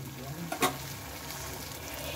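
Orange curry gravy cooks in hot oil in a pan, giving a steady, low sizzle with one brief clatter partway through and no voices.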